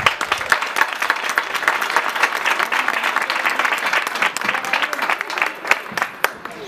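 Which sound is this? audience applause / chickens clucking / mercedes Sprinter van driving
audience applause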